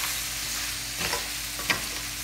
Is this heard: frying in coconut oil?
yes